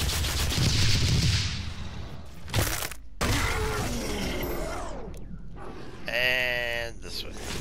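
Rockets fire in the video game DOOM, giving bursts of blasts and crashes mixed with other game effects while a player talks over the action.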